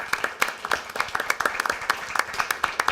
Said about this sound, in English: I think a round of applause to honor his life